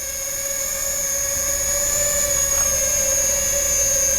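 A steady, high-pitched whir of REKON 35 V2 drone propellers very close by, constant and unbroken, with no voices.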